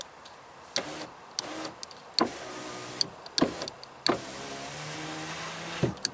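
Electric power window motor in a 2004 Dodge Ram, heard up close as several short whirring runs, each starting and stopping with a sharp click of the switch, the longer later runs humming steadily.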